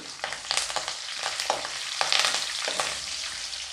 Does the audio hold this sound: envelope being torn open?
no